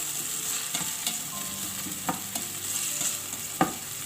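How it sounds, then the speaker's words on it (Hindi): Steady sizzle of food frying in a hot pan, with scattered scraping clicks from stirring and one sharper knock near the end. "तकरीबन 2 से 3 मिनट मैंने इसको फ्राई किया।"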